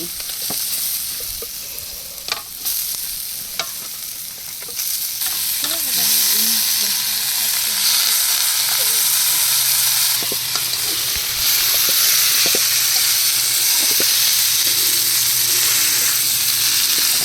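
Water lily stems drop into a hot pan at an outdoor village picnic cook-up, and a loud, continuous hiss of frying follows, with occasional clatters of stirring and utensil knocks throughout.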